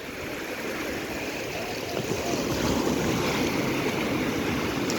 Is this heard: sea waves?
yes